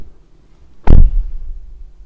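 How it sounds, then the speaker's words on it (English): The door of a 2022 Mercedes C-Class with AMG trim shuts once, a single solid, close thud with a short low rumble afterward, over a quiet background. "Let's close the door."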